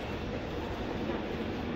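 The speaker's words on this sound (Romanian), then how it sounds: "acest tren a venit" Train pulling into a station platform in Harrow, London, a steady broad rumble of rail noise with no distinct clatter, moderately loud and continuous throughout.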